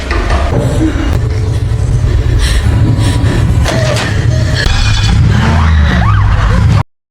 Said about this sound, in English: the car engine started running with no one behind the wheel